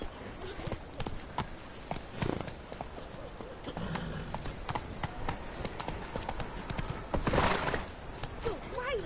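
Roach, the horse in The Witcher video game, gallops with rapid rhythmic hoofbeats and occasional neighs, while character voices talk over the running.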